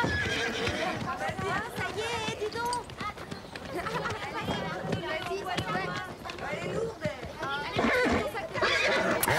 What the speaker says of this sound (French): il faut charger nos chevaux